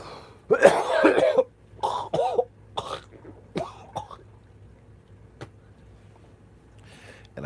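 A person coughs hard and repeatedly at close range in a quiet room, in a string of harsh bursts that grow fainter and more spaced out, followed by near silence.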